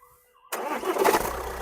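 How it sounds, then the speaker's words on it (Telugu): A 2020 Tata Harrier XZ diesel starts on a single crank after a short quiet pause, catching abruptly and settling into a close, loud, slightly uneven idle. "స్టార్ట్ చేసి కూడా చూపిస్తాను ఒకసారి."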